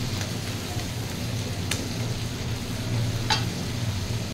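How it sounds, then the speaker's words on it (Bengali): Spices and chicken frying in a pan for chicken curry, giving a steady close sizzle throughout with a couple of sharp stirring scrapes. "এই মশলাগুলো ভালোভাবে ভেজে নেব, যাতে কাঁচা ভাবটা না থাকে মশলার ভিতর।"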